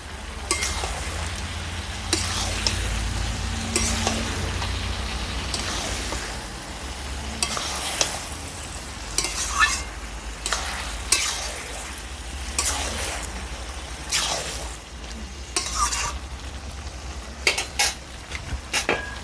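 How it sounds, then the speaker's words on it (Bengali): Taro greens stirred in a pan with salt, turmeric and sugar, a steady frying sizzle broken by repeated scrapes and clinks of a utensil against the pan, close and without talk. "সব কিছু দিয়ে দেওয়ার পরে কচুটাকে ভালোভাবে মিশিয়ে নিচ্ছি"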